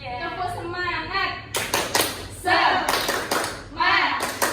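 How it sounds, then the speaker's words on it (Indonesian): A class of children performs a rhythmic spirit clap, several bursts of group hand claps in patterned sequences, mixed with the children chanting along. "Tepuk semangat."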